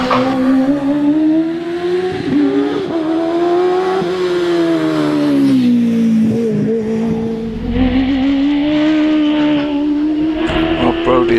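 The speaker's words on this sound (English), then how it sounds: "Andrew Russell is about to leave the line in the Ginetta" Ginetta G15 race car launching from the start line at the Prescott British Championship hillclimb, its engine droning steadily and loud with rising and falling revs as it pulls away, with commentary heard over it.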